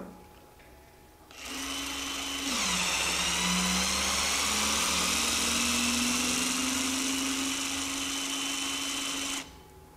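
Hytorc torque gun backing off a bolt: a motorized whir starts, then swells into a loud, steady, buzzing drone with a slowly rising tone. It runs close for about eight seconds and then cuts off, with no talk.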